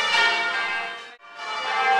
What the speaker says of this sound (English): The bells are not from St Paul's.